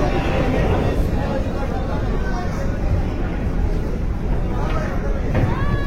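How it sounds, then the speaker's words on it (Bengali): The passenger launch Parabat 11 reverses on the Dhaka-Barisal river route in dense winter fog, its engine a steady, close, low rumble mixed with wind noise and faint crowd babble. "পারাবত 11 লঞ্চও খুব সুন্দরভাবে ব্যাক গিয়ার দিয়ে যাচ্ছে"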